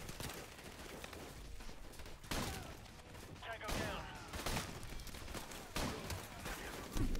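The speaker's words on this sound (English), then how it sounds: "There's so many people firing at the same time that I can't." Many guns firing at once in Call of Duty: Modern Warfare Remastered make overlapping rattling volleys, fairly faint and sustained, punctuated by louder bursts, with voices talking underneath.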